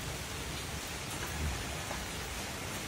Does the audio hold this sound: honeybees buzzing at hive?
no